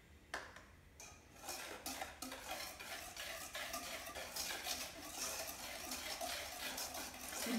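Oil being whisked into banana bread batter in a bowl, quick soft rhythmic whisk strokes with light clinks against the bowl, close and fairly quiet, no speech.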